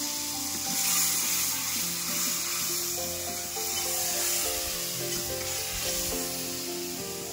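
Masala frying in hot oil with a small splash of bowl-rinse water added, giving a steady, close sizzle with faint stirring scrapes throughout.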